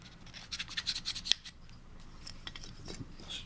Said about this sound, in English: It's a double-sided sandpaper block, in case you're wondering.